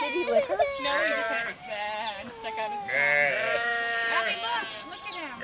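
Jacob sheep on a farm in Davis bleating in a run of wavering, high cries, close and fairly loud, with people talking over and between the calls.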